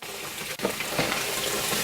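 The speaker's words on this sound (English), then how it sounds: "So I'm just going to dump these into the cold water to stop the process." Scalded tomatoes being tipped into a bowl of cold water while canning, giving a sudden wet splash and churning water that carries on steadily at close range.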